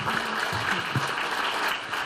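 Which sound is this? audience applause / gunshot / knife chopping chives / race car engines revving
audience applause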